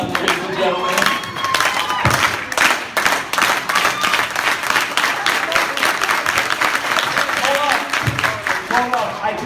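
A convention panel audience applauds and cheers steadily throughout, a dense crowd of clapping hands close and loud, with voices mixed into the noise.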